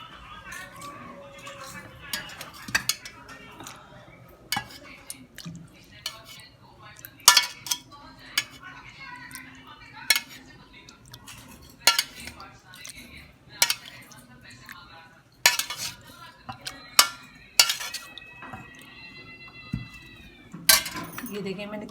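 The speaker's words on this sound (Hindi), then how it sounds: "अब इसके अंदर मैं कड़ी का शोरबा डालूंगी।" Utensils clinking against a dish while kadhi broth is poured for a Memoni khausa dish: scattered sharp metallic clinks and taps spaced across a quiet kitchen background, close and intermittent.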